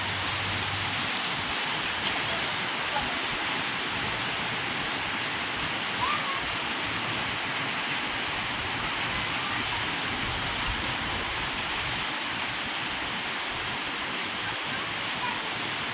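A strong river current rushes in a steady, loud, broadband roar of flowing water with no letup, while voices call faintly in the background.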